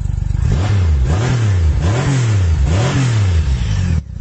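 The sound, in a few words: Triumph Rocket 3 motorcycle engine revving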